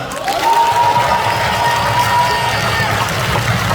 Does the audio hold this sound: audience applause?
yes